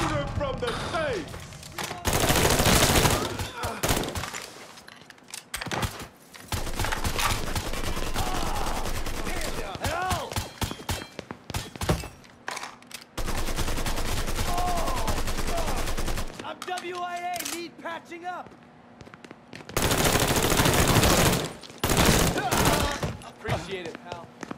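Gunfire from the Mafia 3 video game: loud bursts of automatic fire alternate with single shots and sharp cracks, separated by brief lulls, while characters shout in between.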